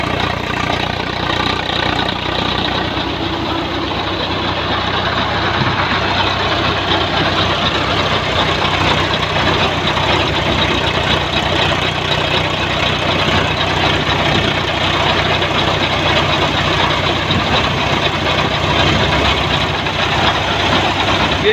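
A tractor engine runs steadily, loud and close, with a constant low rumbling idle while harvested wheat is loaded into its trolley, continuous throughout with no talk.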